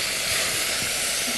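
A quarter cup of vinegar hits a hot pan while Egyptian koshari sauce is being made, giving a steady, loud steamy hiss that fills the whole moment without a break and with no voices over it.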